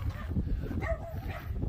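A dog barks and yips in short bursts somewhere in a room, moderately loud against a steady low background hum, with no talk over it.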